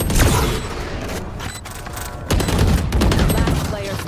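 Loud bursts of gunfire from the tactical shooter Valorant, a rapid fusillade of shots with a brief lull in the middle before another heavy volley, close and dominant.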